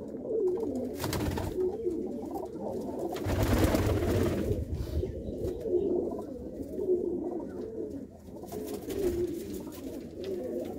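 Big loft pigeons, both cocks and hens, keep up a thick, unbroken chorus of low cooing nearby in Gurdaspur, punctuated by a couple of short bursts of wing flutter or scuffling.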